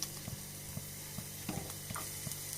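Chopped shallots fry in hot coconut oil for a mango dish, a soft, continuous sizzle with light, regularly spaced stirring taps over it.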